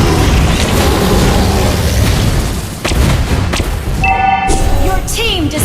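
Mobile Legends match audio as a turret is destroyed: a loud boom and burst of explosion over dense battle effects, with a brief chiming game alert near the end and a short game voice line.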